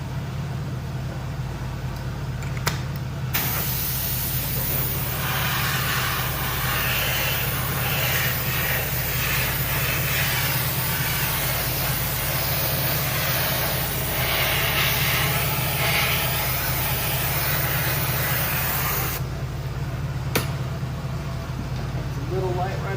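Spray gun hissing clear coat onto a Tesla wheel being repaired for curb rash, a steady close spray of about sixteen seconds with quieter workshop hum before and after.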